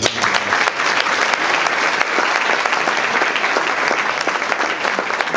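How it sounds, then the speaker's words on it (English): A crowd at a DECA student awards gathering gives its champions a sustained, even round of applause, a thick wash of many hands clapping with no voices breaking through. "we should give them another round of applause"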